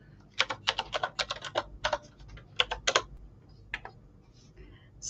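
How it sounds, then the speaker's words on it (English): Someone types on a computer keyboard at close range, quick bursts of crisp clicking keystrokes with short pauses, then a few scattered taps against a quiet hum. "Sorry, I was typing."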